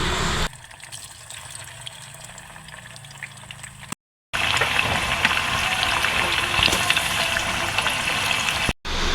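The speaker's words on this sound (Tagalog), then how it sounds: "ito pina-fry ko na nga po para po maging crunchy ito" Tofu cubes fry in hot oil until crunchy, a steady bubbling sizzle that drops quiet, cuts out briefly, then returns louder and fuller through the rest.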